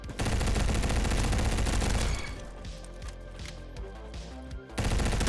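Rapid gunfire in the Roblox shooter Bad Business on a close-quarters factory map, a dense loud burst of shots, then quieter sporadic reports and impacts, before another heavy burst at the end.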